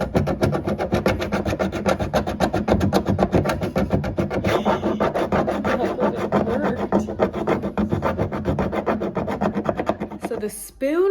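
Scraping and rubbing of a metal spoon against sun-faded stickers on a wooden play kitchen, a dense, continuous rasping that runs steadily and close for most of the clip before breaking off near the end.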